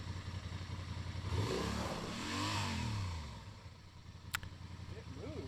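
A 2025 Honda Transalp 750 adventure motorcycle revs on gravel with the rider on the throttle, giving a few close rising-and-falling engine bursts over rough background noise, ending with a sharp click.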